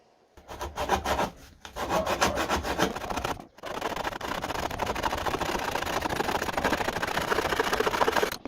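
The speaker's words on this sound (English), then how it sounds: "I have to cut a little square out the end of this wall so that it'll fit around this lump here" Close, quiet hand-sawing of a wooden organizer wall to notch out a small square: a few quick rasping strokes, a short pause, then a long run of steady back-and-forth sawing.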